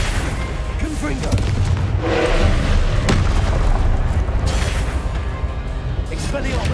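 Blasting spell explosions in the wizarding game Hogwarts Legacy, a run of loud booms and bursts with a sharp blast near the middle, heard beneath a person talking.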